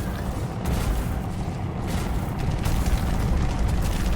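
Dense, continuous explosions in The Riftbreaker video game, a loud rumbling barrage of booms and blasts layered into a steady roar.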